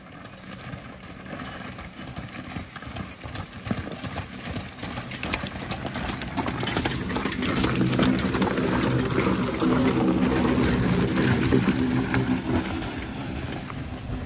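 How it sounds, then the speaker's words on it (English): Horses pulling a hitch clip-clop steadily along, their hoofbeats blending with a low rumbling background that grows a little louder partway through. "The horses are acting well."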